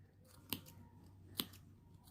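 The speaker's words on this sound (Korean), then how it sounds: "가위밥을 넣도록 하겠습니다." Scissors snip notches into the curved seam allowance of fabric for a round drawstring pouch, two crisp close cuts about a second apart over a quiet background.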